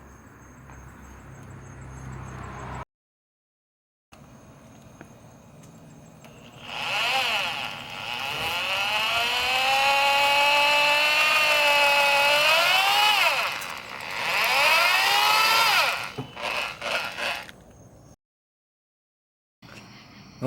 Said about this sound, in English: go into where the hole is, and drill into it